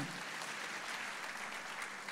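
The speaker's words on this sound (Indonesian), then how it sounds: "Tepuk tangan untuk kemuliaan nama Tuhan" Sustained applause fills a church service, a steady dense wash of many hands clapping with no gaps, moderately loud and continuous throughout.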